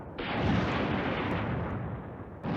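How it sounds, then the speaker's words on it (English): Artillery fire in the wargame Command Ops 2 booms as a loud, sustained barrage of rumbling blasts, with a fresh impact bursting in near the end. "Like the artillery's helping us here."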